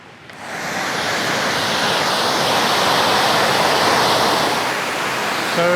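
A waterfall at Braamfontein Spruit park pours steadily nearby, a loud, continuous broad rush of falling water with no voices.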